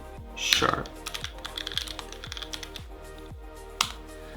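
Fast typing on a computer keyboard with irregular clicks and key taps, fairly close and clear, while entering a request for C# code.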